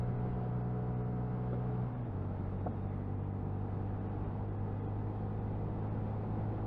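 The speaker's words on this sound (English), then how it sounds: "Now I'm going to get some revs up the hill." A 2021 Honda MSX125 (Grom) motorcycle climbs a steep hill with the throttle held open, carrying a rider. Its engine drones steadily, and its pitch drops once partway through.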